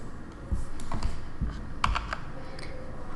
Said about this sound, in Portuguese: podemos utilizar a tecla de atalho para centralizar, Ctrl E